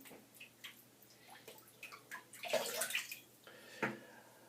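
A 24mm shaving brush is soaked under running water, giving soft, uneven splashing and trickling that swells to a louder gush about halfway through, then a few short, sharper splashes. The sound is close and quiet, and nobody speaks.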